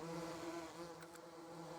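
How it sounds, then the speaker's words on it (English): Bees buzz around beehives on a farm in the Farming Simulator video game, a faint, steady insect drone with a couple of brief higher flickers, and no one speaking. "you heard more bees come out of it"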